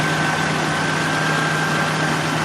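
A Nissan VG33E V6 engine idling at around 650 RPM, a steady, even hum with a constant low drone and a faint higher whine, unchanging over a few seconds.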